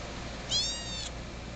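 A calico cat gives one clear, rising-and-falling meow at close range, lasting about half a second over a faint steady background hum.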